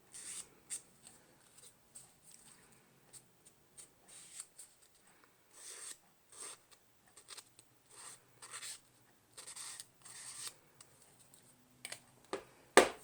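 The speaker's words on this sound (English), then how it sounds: "I'm going to use this green marker around the outside edge of it as well" A green marker drawn around the outside edge of a sticker card, soft scratchy strokes in short bursts with pauses, quiet and close, ending with a sharp tap.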